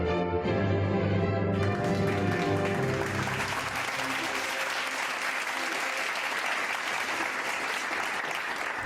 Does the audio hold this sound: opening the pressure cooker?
no